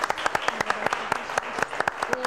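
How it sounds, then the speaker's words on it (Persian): A studio audience applauds in a TV show honoring an Olympic bronze medalist and her parents, with sharp individual claps in an uneven rhythm close by, fairly light and thin rather than a roaring crowd. "و همه تشویق کنیم"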